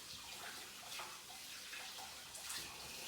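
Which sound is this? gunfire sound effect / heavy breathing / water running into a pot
water running into a pot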